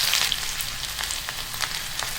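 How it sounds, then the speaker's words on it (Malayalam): Mustard seeds splutter and pop in hot coconut oil for a pumpkin curry tempering, a steady close sizzle dotted with sharp crackles scattered throughout, with no voices. "1 ടീസ്പൂൺ കടുക് ഇട്ട് കൊടുക്കാം. കടുക് പൊട്ടിക്കഴിയുമ്പോൾ നമുക്ക് ചെറിയ ഉള്ളി കുഞ്ഞായി അരിഞ്ഞ് ഇട്ട് കൊടുക്കാം."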